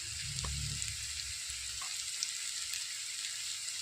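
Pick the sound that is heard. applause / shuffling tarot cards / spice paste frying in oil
spice paste frying in oil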